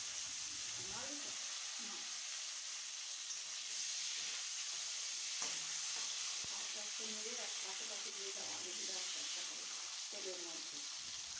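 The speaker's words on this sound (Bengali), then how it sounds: "আলুগুলো এখানে ভাজতে ভাজতে দেখবেন হাফ সেদ্ধ হয়ে গেছে" Long-cut potato strips sizzle and hiss steadily in hot mustard oil, a dense continuous frying crackle throughout, with a voice talking over it at times.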